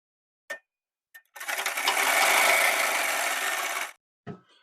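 A sewing machine stitches a dart on a collar blouse, running in one steady, close burst of about two and a half seconds, with brief handling clicks before it and after it.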